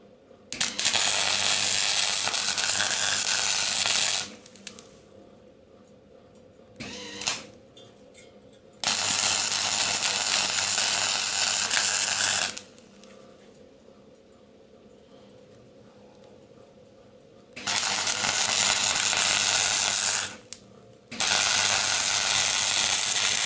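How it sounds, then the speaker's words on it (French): Flux-cored wire welding on the body of a classic Citroën Traction 11B, loud steady crackling buzz in four long bursts of several seconds each, separated by quiet pauses, with no talk. "comme je soude au fil fourré, j'ai pas besoin de mettre le fourreau qui guide le gaz"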